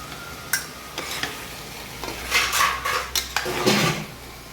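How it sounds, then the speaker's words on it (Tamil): A spoon stirs cubed paneer into tomato gravy in a pan, giving a run of scraping strokes and sharp metallic clinks against the pan, close and fairly loud, with no voices. "கிரேவியோடு நல்லா கிளறி விட்டாச்சு."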